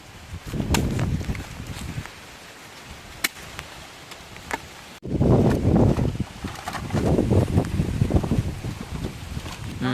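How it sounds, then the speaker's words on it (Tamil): Strong wind gusting through a palm forest, roaring and buffeting close to the microphone, easing briefly before a louder, sustained blast over the second half, with a few sharp knocks and rustles. "காற்று அணைச்சிக்கிட்டே இருக்குது ஆனால் விட மாட்டேன் ரொம்ப அவ்வளோ காற்று"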